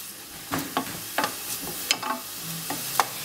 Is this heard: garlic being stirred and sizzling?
yes